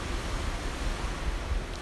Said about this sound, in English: The waves are beautiful, a little rougher than normal,